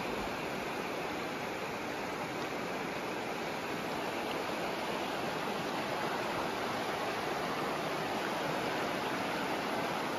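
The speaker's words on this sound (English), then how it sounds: "I love listening to the river" A river flowing beside a campsite makes a steady, full rushing wash of water. It stays continuous and fairly close, unbroken by any voices.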